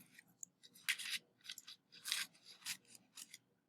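Scissors cutting out paper cards, several short close snips and slicing strokes in quick succession with brief gaps, quiet with no talking.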